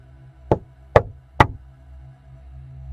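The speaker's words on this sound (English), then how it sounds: "I couldn't think of any good reason why someone would be knocking at that time" Three sharp knocks on a door, evenly spaced about half a second apart, standing out clearly over a low steady background hum with no voices.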